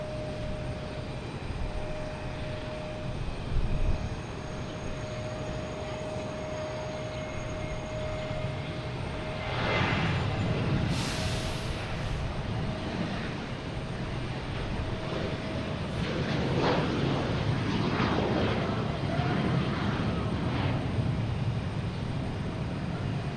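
Southwest jet airliner at Boston Logan Airport, a steady distant engine roar that swells in the middle of the clip and again toward the end, with no talking.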